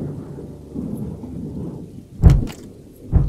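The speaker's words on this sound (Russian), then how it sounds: "Теперь у нас гроза" Thunderstorm with rain in a video game: steady rain hiss throughout, then two deep, loud thunder cracks booming in near the end, with no talking.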